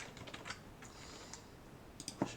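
Keyboard typing at a computer, a few soft scattered keystrokes with a sharper pair near the end, faint and close over quiet room noise.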